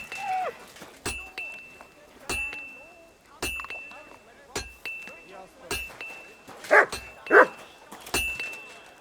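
A dog in Kingdom Come: Deliverance II gives a series of short, sharp barks spaced across several seconds, each with a quick attack, a few louder near the end, with whimpers and someone speaking between them.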